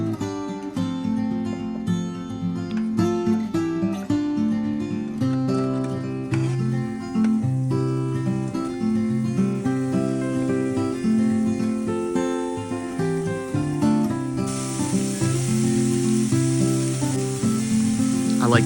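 Onions and mixed vegetables fry in olive oil in a hot pan, a continuous hiss that grows louder toward the end, heard beneath steady tonal background music.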